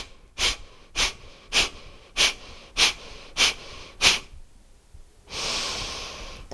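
Seven short, sharp nasal sniffs in a steady rhythm during a yoga breathing exercise, each a quick close breath, then a longer, softer rushing inhale that fills the lungs at the end; no talking.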